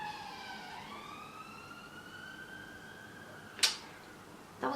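A siren sweeps and wails in the distance, sliding in pitch over steady background noise, followed by a couple of short sharp knocks.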